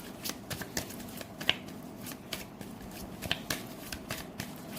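Tarot cards are shuffled and drawn close by in quiet, repeated riffling flicks and soft slaps at an uneven rhythm, with no talking.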